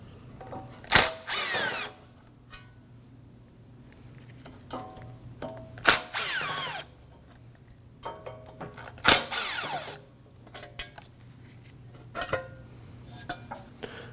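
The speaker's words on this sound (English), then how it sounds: "To remove the backing plate, we have 3 number 3 Phillips head screws." A power driver spins out three number 3 Phillips head screws from a wheel bearing backing plate on a 2016-2022 Honda Pilot, giving three separate loud whirring bursts with quieter clicks and handling noise between them.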